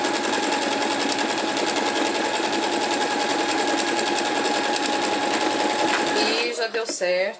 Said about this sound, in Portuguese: Então, eu vou costurando aqui.